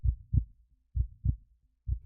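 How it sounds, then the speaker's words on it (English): Low, muffled heartbeat thumps pulse in paired lub-dub beats, three pairs at a steady slow rhythm, close and isolated against near silence as a sound effect. "Breaths and heartbeats."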